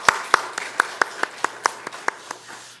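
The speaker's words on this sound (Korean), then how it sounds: "우리 박수로 다시 한번 축복하겠습니다." Clapping from a congregation during a Sunday church worship service: about a dozen crisp, evenly spaced claps fall in a steady rhythm over nearly three seconds, close and distinct.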